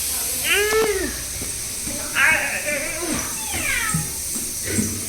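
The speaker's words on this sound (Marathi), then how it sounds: "अरे कोणती मांजर आहे ही बघ, ही बाई मांजर" Several distinct meows from a female cat, rising and falling, repeat at irregular intervals, close by, over faint background noise.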